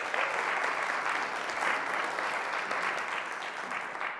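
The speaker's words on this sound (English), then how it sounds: "How about a round of applause for those students?" Steady applause fills an audience at a college business pitch competition, honoring students, continuous and dense clapping at a fairly even level throughout without any talk.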